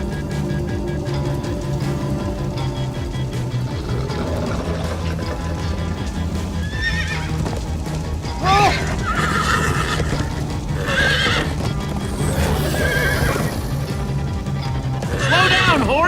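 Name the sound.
horse neighing and galloping in Minecraft Story Mode video game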